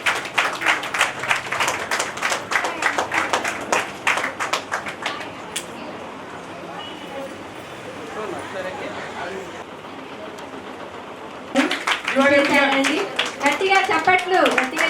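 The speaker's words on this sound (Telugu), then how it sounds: "గట్టిగా చప్పట్లు కొట్టండి" Audience at a restaurant's International Women's Day celebration clapping loudly to welcome honorees, rhythmic claps fading to quieter murmur midway, then swelling again with a voice speaking over it.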